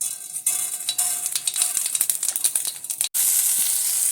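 Mustard seeds sizzling and popping in hot oil for a Tamil buttermilk curry, a bright continuous hiss with rapid crackling pops, close and steady, briefly cut near the end.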